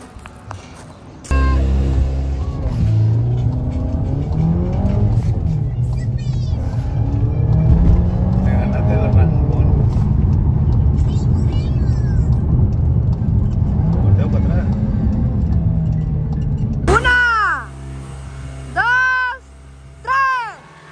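Toy cars racing, with engine-like whirring and revving that rises and falls over roughly twenty seconds, mostly under near, continuous talk, then fading to a quieter end with a few sharp chirps.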